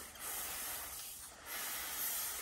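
A soft, steady hiss from a Sunbeam Valet garment steamer, fairly quiet and close, dipping briefly in the middle before continuing.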